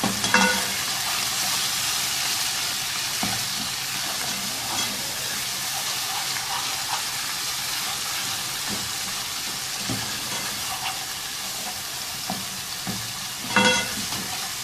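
Red chilli powder and turmeric are stirred into frying oil in a pan, a steady close sizzle and hiss running throughout with occasional scraping stir strokes and a louder clatter near the end.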